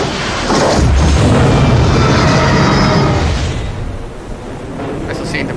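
A submarine-launched missile broaching the surface in the naval warfare game Cold Waters, heard as a loud, sustained rumbling roar and booming blast that swells and holds for several seconds before easing slightly.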